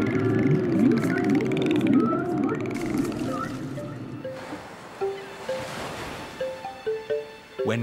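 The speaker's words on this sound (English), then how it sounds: "whales choose the exact frequency window to carry their low-frequency sounds most effectively" Whale calls underwater in the open ocean, rising and falling tonal moans mixed with short repeated upward chirps over a steady wash of water noise; a rushing burst swells in the middle before a run of evenly spaced calls.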